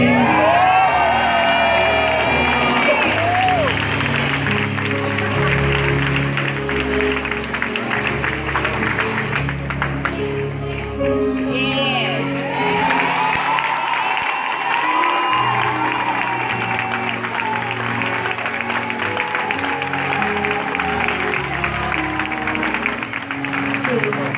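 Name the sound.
crowd screaming and cheering, applause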